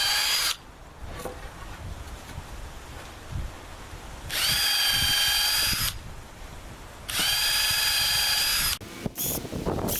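A power drill bores two 1/4-inch holes through the wood of a T-shaped trellis for lag bolts. Two loud whining bursts of about a second and a half each are separated by clunks and handling noise.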